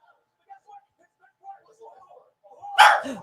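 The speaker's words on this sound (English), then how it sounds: "I don't know why she's barking" A single loud dog bark near the end, sharp and close, following quiet murmuring voices.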